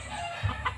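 A one-year-old hen gives a couple of short, soft clucks close by, over a faint steady background hum.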